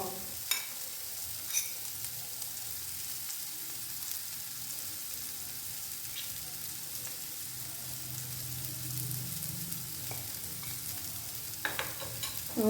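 Spiced potatoes sizzle softly in a pan while being stirred, a low steady frying hiss broken by occasional scraping taps of the spoon, fairly quiet and close.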